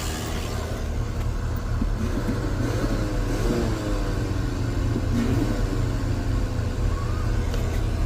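Hearse engine idling and running steadily after a fuel pump replacement, a continuous low rumble with a slight rise in revs partway through, moderately close and alone without talk.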